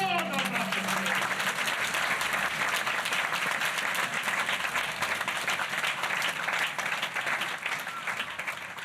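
A church congregation bursts into loud, sustained applause, with dense clapping filling the room and slowly easing toward the end, while a few faint voices mix into the crowd noise.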